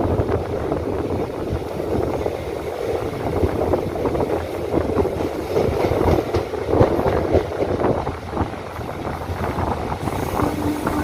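The Digha Asansol Express rolls into a station with a steady, loud rumble of wheels and rail clatter throughout, with no voices, continuous and close.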